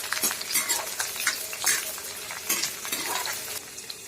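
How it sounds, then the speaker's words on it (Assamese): Sliced onions frying in hot oil while a spatula stirs and scrapes the pan, a continuous close sizzle broken by repeated scraping strokes and light clinks of metal, no talking. "পিঁয়াজখিনি ৰঙচুৱা হোৱালৈকে এনেকৈ ভাজি থাকিম।"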